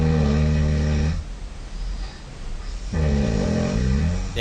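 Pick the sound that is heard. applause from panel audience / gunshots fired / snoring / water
snoring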